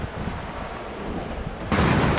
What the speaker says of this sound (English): Wind, waves, just flying.